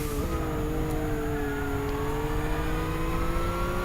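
Peugeot Vision Gran Turismo in Gran Turismo 6 at Laguna Seca, its engine droning steadily and climbing in pitch through the gears, with a brief dip at a shift early on, loud and close.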